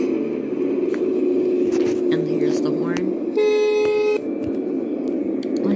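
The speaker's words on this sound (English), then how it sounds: "who is honking?" Horn on a 2022 BMW M340i Touring sounds in one steady honk of just under a second, near and loud, over the running car's hum with talk around it.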